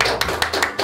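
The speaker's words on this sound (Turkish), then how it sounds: "Alkış!" A few sharp claps in quick succession, close and fairly loud, with no voices.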